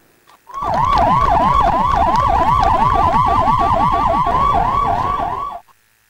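A loud wailing ambulance siren cycles rapidly up and down in pitch, continuous and close, then cuts off abruptly.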